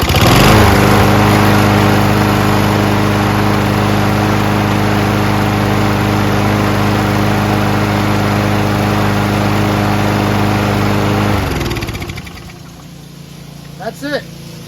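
A Toro SR4 Super Recycler lawn mower engine runs without its air filter, steady and loud for about eleven seconds before being shut off and winding down, followed by a few faint clicks.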